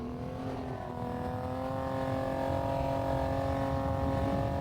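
Steady engine drone of a car cruising along a beach in Half-Life 2, a sustained mid-pitched hum with layered harmonic tones, holding loud and even throughout with no talk.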